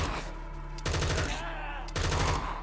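An M249 machine gun fires in a Minecraft zombie mod game, loud rapid bursts of gunfire in two long strings broken by a short pause.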